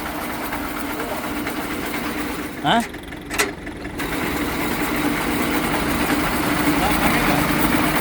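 An 8-ton heavy duty tractor winch runs in fourth gear with a steady loud mechanical drone, briefly dipping and clunking as gears shift midway, with people speaking over it.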